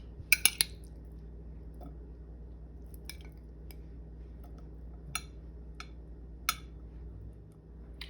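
Sharp metallic clinks and taps as potato is layered into a buttered casserole dish, a few quick knocks at the start and then sparse single clicks over a quiet background.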